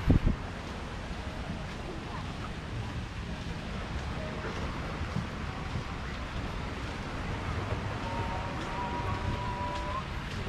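Constant wind rushing across the microphone outdoors on Boracay, Philippines, a broad steady roar with faint water or boat noise underneath.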